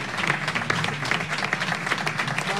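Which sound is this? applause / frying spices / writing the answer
applause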